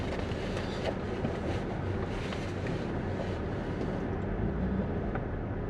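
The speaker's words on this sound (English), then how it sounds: "Let's take her for a drive." Salvage-title Buick car out on the road, a steady, close rumble of engine and road noise that holds without a break and with no voices.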